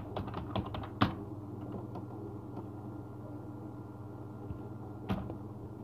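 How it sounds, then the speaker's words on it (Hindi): Typing on a computer keyboard to enter a username, a quick burst of close key clicks followed by a pause and then a few scattered keystrokes over a low steady background hum. "जो मेरा यूजर नेम है उसको यहाँ पर टाइप कर देता हूँ"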